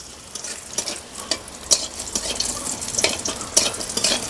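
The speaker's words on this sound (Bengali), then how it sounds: "বড়িগুলো তেলের মধ্যে দিয়ে দিচ্ছি।" Lentil dumplings (bori) frying in oil alongside bitter gourd, a close, steady sizzle broken by irregular crackling spits and bubbling bursts with no talk.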